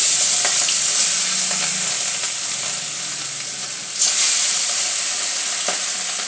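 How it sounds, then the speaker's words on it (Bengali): Hilsa fish, some with roe, sizzling in hot oil in a wok: a steady, bright frying hiss with occasional crackles and spits, close up and alone. "আমি ওর মধ্যে এবার মাছগুলো আস্তে আস্তে ছেড়ে দেব।"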